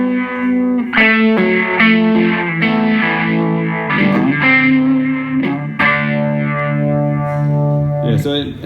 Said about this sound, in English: it sounds a lot like a univibe